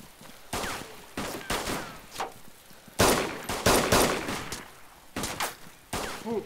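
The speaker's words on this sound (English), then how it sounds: "Oh, shot the guy in the orange sweatshirt." Gunfire in the survival video game DayZ, a series of loud, sharp shots in uneven bursts with short gaps between them, fairly close and punchy, with no talking over them.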